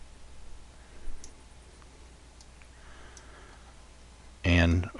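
Computer mouse clicks during a software demo of process customization in Rational Team Concert: a few faint, sparse ticks, then one louder, sharper click burst near the end over a quiet room background.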